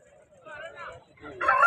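A rooster at the Punganur fighting-cock market crows and clucks close by, a short rising call ending in a loud burst, with people's voices around.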